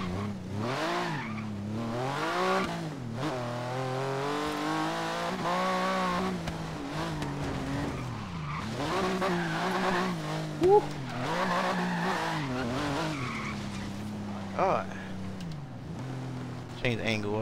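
A 970 hp 1995 Porsche 911 GT2 drifts in Forza Horizon 3, its engine rising and falling in sweeping revs with tire squeal through a long slide, loud and close, under a continuous voice.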